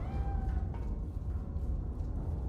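A house cat meows softly at close range, the call thin and a little drawn out, over a low rumbling background, with no talking.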